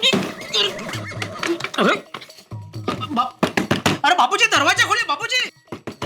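Repeated knocking on a door in a Hindi comedy scene, with someone shouting and pleading over the knocks in bursts, loud and close.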